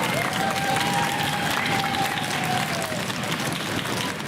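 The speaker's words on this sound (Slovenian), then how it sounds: "Dajmo en aplavz." Audience applause at a Slovenian quiz-show taping, a steady dense wash of clapping hands running the full length, loud and continuous with a brief whistle-like tone early on.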